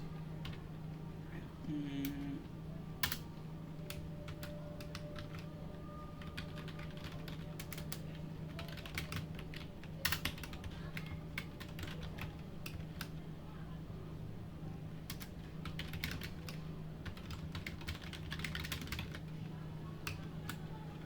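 Typing on a computer keyboard in the vim editor: faint irregular clicks and clusters of key taps spread over about twenty seconds, with a low steady hum in the background.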